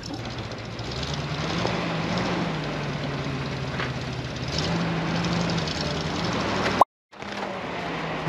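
A DT-75 crawler tractor's diesel engine idles with a steady low rumble, continuous and fairly close, briefly cut by a short gap of silence near the end.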